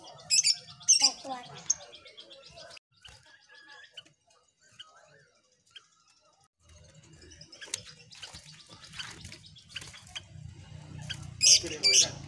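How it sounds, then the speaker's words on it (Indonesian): Shrill, sharp lovebird calls and chirps come in short bursts at the start and end, close by, with quieter rustling and murmured voices between. "lovebird"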